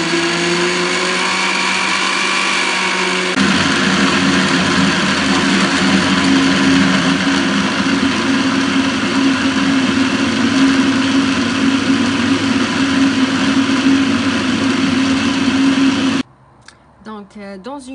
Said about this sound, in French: et je mixe.